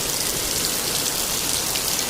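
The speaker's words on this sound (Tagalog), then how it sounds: "Malakas naman ang ulan" Dense, steady rain pours down in a constant broadband hiss, heavy and unbroken throughout, with no voices.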